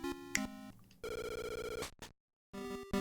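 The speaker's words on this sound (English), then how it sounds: "Ring ring! Hello? It's me, Olivia" A chiptune telephone ringing from the Game Boy Color game Link's Awakening DX, a bright electronic trill in two bursts separated by a brief silence, loud and with no talking.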